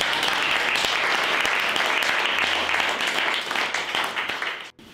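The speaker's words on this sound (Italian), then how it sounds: "Bene, ragazzi, facciamoci un applauso" Young people applaud at an Italian talent tour event, a loud, dense round of clapping that holds steady and then tapers off near the end, with no voices over it.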